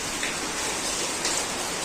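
Heavy rain pours down steadily and close by in a rural spot where a cow is sheltering, a dense unbroken hiss with no voices.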